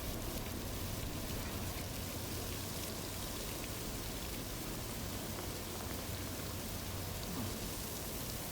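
Steady, dense rainfall in the video game Death Stranding 2, a constant hiss of drops on surfaces that holds even throughout with no talk.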